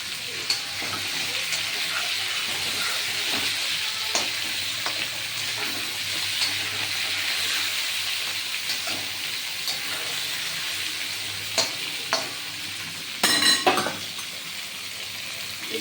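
Cauliflower pieces fry in a pan with a steady close sizzle, punctuated by occasional clicks and a louder scrape near the end, with nobody speaking.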